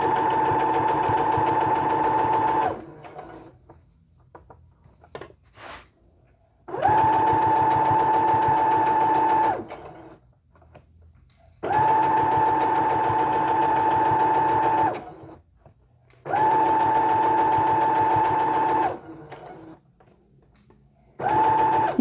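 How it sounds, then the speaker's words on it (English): A sewing machine stitches a quarter-inch seam on fabric for a doll beanbag chair, running in four steady whirring bursts of about three seconds each, loud and close, separated by short quiet pauses with faint handling noises. "I'm going to sew right down here, just like I did before, another 1/4 inch seam"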